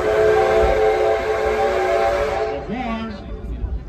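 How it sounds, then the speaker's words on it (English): A loud, chord-like five-chime whistle on steam locomotive 3716 blows steadily for a couple of seconds, then cuts off, leaving a fading echo through a valley and rumbling train noise. "3716's loud five-chime steam whistle echo through the valley"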